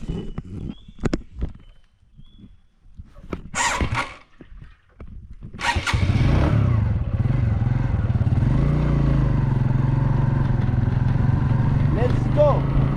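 Motorcycle with a 5-speed gearbox ridden on the road, a steady loud engine and wind roar filling the second half after a stretch of handling noises and talk near the start.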